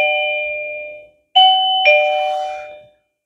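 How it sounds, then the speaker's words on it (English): A Daytech wireless door chime rings three times: a sustained two-tone ding, then two more strikes close together, each ringing out and fading, clear and close with no other sound. "Okay, is it a chime bell?"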